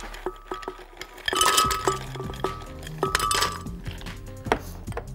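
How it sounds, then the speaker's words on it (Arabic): Ice cubes for a guava and banana cocktail drop and clink against a glass, bright ringing taps that come scattered and then cluster, close and clear with no talk. "هبدا الاول بشويه مكعبات التلج، مش كتير"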